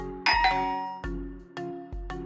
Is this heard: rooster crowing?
no